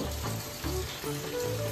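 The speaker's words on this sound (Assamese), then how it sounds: "কেঁচা জলকীয়া দুটা ইয়াত দি দিব ইয়াৰ পাছত অলপ সময় ভাজিব" Two green chillies fry briefly in a pan of hot oil for an Assamese taro-stem and borali fish dish, giving a short, continuous sizzle with some uneven bursts.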